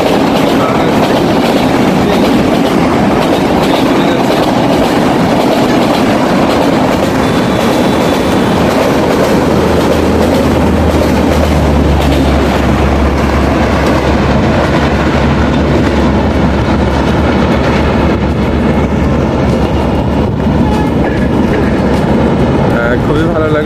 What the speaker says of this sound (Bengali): আপনারা দেখতে পাচ্ছেন ওই যে ট্রেন যাচ্ছে